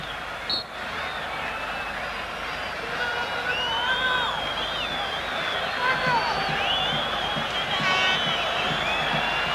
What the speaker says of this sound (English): The whole crowd here rises.